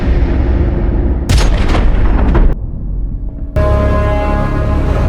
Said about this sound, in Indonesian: Perampok tiba-tiba menembak anak Patrick